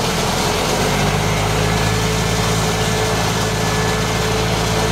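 An AMF Harley-Davidson three-wheel golf cart's engine runs steadily throughout at a low, continuous drone, moderately loud and close, with no talking over it.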